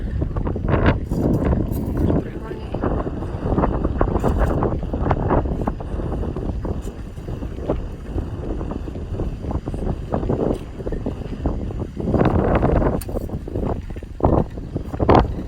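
Wind buffets the microphone at an outdoor dig site among heaps of clay and sand, giving loud, gusty low rumbling and thumping that continues throughout with fluctuating intensity.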